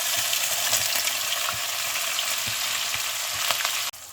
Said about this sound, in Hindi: अब प्याज, अनियन और ज़ीरा और हरी मिर्चें इनको मैं ऑयल में भून रही हूँ।